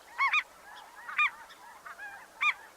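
Ross's goose calls in short, high-pitched honks, three bright paired bursts spaced about a second apart with softer chatter between, fairly close and clear against a quiet background.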